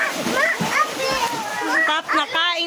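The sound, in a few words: water splashing as something is filled with water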